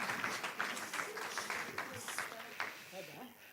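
A small audience applauds, a short burst of brisk clapping that fades, with people talking over it.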